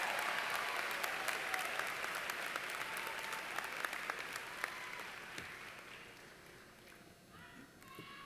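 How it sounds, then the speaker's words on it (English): A college commencement audience applauds graduates, a dense, sustained wash of many clapping hands that gradually thins and fades toward the end. "give yourselves a hand of applause"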